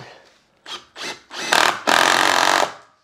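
A screw is driven through the thermal break of an aluminium door frame into timber, heard as a few short, close bursts of a power driver grinding in, ending with a longer steady run of about a second.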